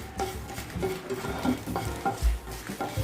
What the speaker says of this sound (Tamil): இப்போ கொத்தமல்லி எடுத்துகிட்டு வரமிளகாயும் கருவேப்பிலையும் சேர்த்து வறுக்கலாம்